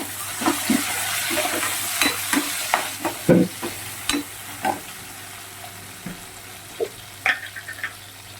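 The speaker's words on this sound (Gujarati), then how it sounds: "એમાં આપણે કટોરી ટામેટા નાખીશું" Chopped tomatoes and onions frying in a pan for Amritsari paneer bhurji, stirred with a steady sizzle and repeated scraping strokes of the spoon, close and fairly loud, with no talk.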